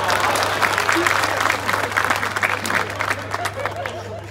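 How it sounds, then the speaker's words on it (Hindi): Sustained applause from an audience at a mushaira poetry gathering in Siwan, dense steady clapping with crowd noise filling the whole stretch and a constant low hum beneath. "एक बार उनके लिए तालियां बजाओ।"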